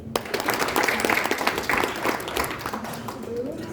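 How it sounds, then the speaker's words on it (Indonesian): Seminar audience applause at an IKA ITS Jabar IoT forum and halal bihalal, a burst of many people clapping that tapers off, with voices coming through faintly as it dies down. "Mari tepuk tangan."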